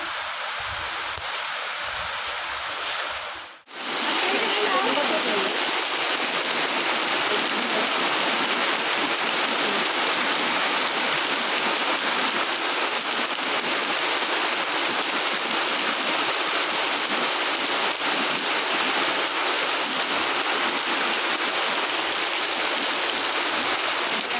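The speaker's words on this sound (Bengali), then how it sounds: "আরও জোরে আসছে বৃষ্টিটা।" Heavy rain pours down steadily and loudly outdoors, a dense unbroken hiss that cuts in abruptly after a few seconds of quieter sound and continues without pause.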